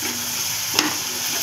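Chickpeas frying in a pan for upma, a dense continuous sizzle that holds steady throughout, close by, with a single brief clatter near the middle and no voices.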